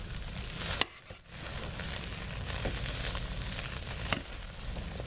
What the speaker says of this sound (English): every stir that I made, I could hear little popping sounds